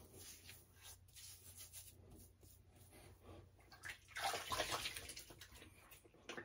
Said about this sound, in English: I better double rinse my hands.